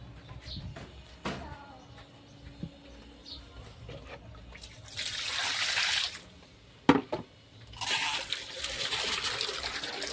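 Water running from a tap to prepare a bath for a dog, heard as two sustained bursts of rushing flow separated by quieter gaps with a few clicks and knocks, fairly close and with no talking.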